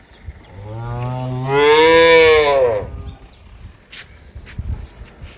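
A dairy cow gives one long, loud, close moo that rises and falls, followed by quieter rustling and shuffling sounds at a village farm.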